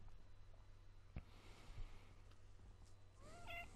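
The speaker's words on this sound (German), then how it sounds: "Meine Katze ist auch am Start," A house cat meows faintly once near the end over a quiet background hum, with a couple of soft knocks before it.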